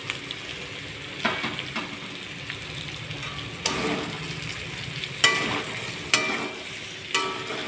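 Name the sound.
bitter gourd pieces frying with salt, turmeric and chilli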